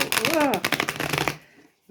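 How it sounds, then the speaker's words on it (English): A deck of tarot cards being shuffled by hand, a quick flurry of close, crisp card riffles and taps during the first second or so, with a voice speaking over part of it before it falls quiet. "I always have a problem with shuffling this deck because the cards are so..."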